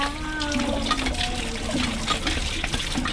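Flowing water rushes steadily and fairly loud throughout, with faint voices and tonal sounds mixed in.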